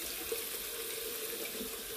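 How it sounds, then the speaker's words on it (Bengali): Tap water running into a sink while tomatoes are washed, a steady close splashing hiss that continues evenly throughout, no talk. "টমেটোগুলো ধুয়ে নিচ্ছি।"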